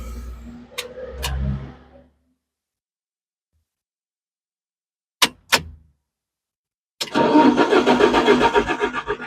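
A car that sat in a workshop for six months is cranked. Two short starter bursts are followed by a pause and two sharp clicks, then a loud, pulsing cranking that runs to the end.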